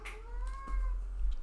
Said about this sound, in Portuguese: A Bela tá miando, gente.